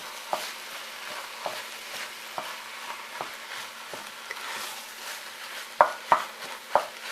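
Food being stirred and broken up with a big wooden spoon in a pan, soft repeated taps and scrapes at an irregular pace with a faint sizzle underneath, a few sharper knocks near the end, no talking.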